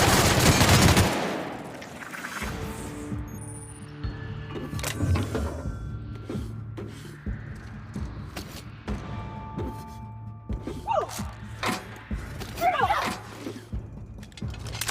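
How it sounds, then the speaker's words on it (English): Gunfire in The Outer Worlds video game: sharp bursts of automatic shots and single cracks scattered across the scene, loud and near, with game music and other effects underneath. "What are you guys shooting out here?"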